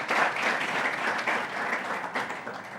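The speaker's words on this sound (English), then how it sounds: "another round of applause for our amazing moderator and our panelists" Audience applause at an investor summit as the panelists and moderator leave the stage, a dense steady clapping that holds loud for about three seconds and then eases slightly toward the end.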